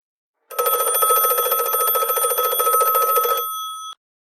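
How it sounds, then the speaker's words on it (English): An electric school bell in an ESL cartoon rings loud and continuous for about three seconds, then stops abruptly, alone with no talking. "The bell is ringing."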